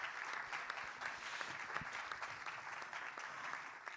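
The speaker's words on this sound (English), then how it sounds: "everybody gives both the T20 Brazil Organizing Committee a big round of applause" Conference audience applause at a T20 Brazil midterm meeting, a steady, moderately distant patter of many hands clapping that continues evenly throughout.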